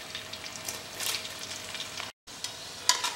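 Onions frying with garam masala in a pan give a steady, close sizzle with soft stirring scrapes, a brief dropout, then a few sharper clinks near the end; no one talks.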